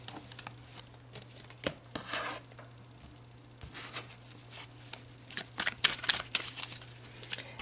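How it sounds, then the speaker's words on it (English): A deck of tarot-style reading cards being shuffled close by, with repeated quick riffling bursts and soft rubbing sounds, the snaps growing busier toward the end. No one speaks. "I'm going to actually pull a card from this deck too, so we'll shuffle those in."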